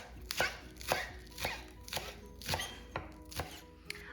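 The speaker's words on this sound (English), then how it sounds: "I'm just going to chop these really small so that they're all ready for the congee when it's done" A knife chops green onions on a cutting board into small pieces, a steady run of crisp, close, evenly spaced thuds, roughly two per second, with no voices.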